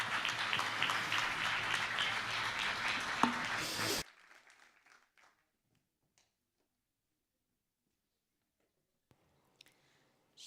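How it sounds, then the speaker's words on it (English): Audience applause for three women presenters at an international work-life balance seminar, a dense burst of clapping for about four seconds that cuts off abruptly, followed by near silence with a few faint clicks. "a round of applause for them"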